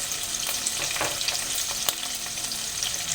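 Ground spices including chili, cumin and coriander sizzling and being stirred in hot oil in a pan for a cottage cheese curry, a steady close frying hiss with soft scraping of the stirring spoon.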